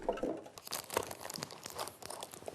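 Compressed plastic film is peeled off a plastic package, with close, faint, irregular crinkling and tearing in several short bursts and no talk.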